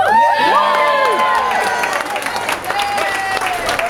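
Audience applause and cheering follow a political speech by Bill Shorten, a dense, loud wash of clapping with whoops and high shouted voices sweeping over it, holding steady throughout.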